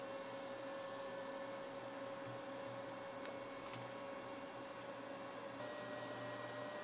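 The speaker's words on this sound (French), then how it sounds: "ça y est la ventilation se met en route. Ah, ça accélère très vite, hein." The cooling fan of an AllPowers R600 portable power station runs with a steady, faint whirring hum and a constant high tonal whine, unchanging and alone.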